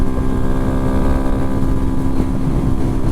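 A 2022 Honda Grom motorcycle cruising at about 50 mph in fourth gear, its small single-cylinder engine holding a steady, loud drone with strong wind rush over the microphone.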